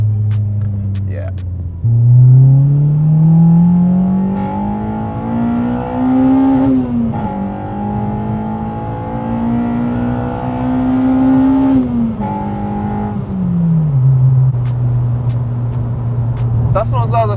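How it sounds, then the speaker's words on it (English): Honda Civic Type R EP3 with a Spoon N1 exhaust revving repeatedly, the droning, raspy engine note rising and falling in long swells with talk running over it. "it's the different characteristics of the exhaust"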